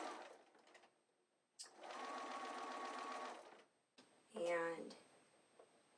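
A sewing machine stitches binding onto a quilt with a scalloped border in two short runs of rapid, even needle clatter, close and clear, between quiet gaps with soft voice.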